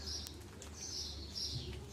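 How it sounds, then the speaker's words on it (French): Birds moving about outdoors on a rainy day give a few faint, high chirps over a steady low background hum, spaced through the short stretch. "Il y a les oiseaux qui se baladent."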